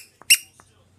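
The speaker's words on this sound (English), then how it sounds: "This is him squeaking the toy." A dog squeaks a squeaky toy once, a sharp, loud, high squeal. A few faint clicks come before it and after it in an otherwise quiet room.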